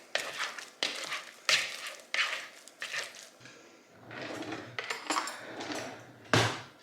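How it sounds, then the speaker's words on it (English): Cooked pumpkin mashed with a masher in a bowl: a series of close, irregular soft thuds and scraping clatters as the masher strikes and drags against the bowl, about eight strokes in quick succession. "Take your masher and mash, like so."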